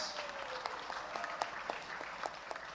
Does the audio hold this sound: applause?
yes